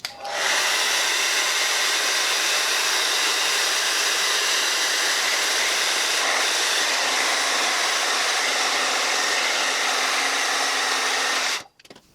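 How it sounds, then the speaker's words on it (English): A hair dryer blows on a beard, a loud, steady, close whooshing roar running continuously for about eleven seconds before cutting off abruptly. "pushing it up, hitting it with the dryer."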